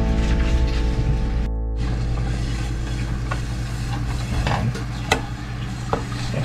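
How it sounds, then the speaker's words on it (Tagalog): Butter melting in a cooking pan while being stirred before ube halaya goes in, giving a steady sizzle with scraping and clinking of the spoon up close, and no talking. "Lagyan tayo ng butter para hindi siya masyadong dumikit sa ating pan."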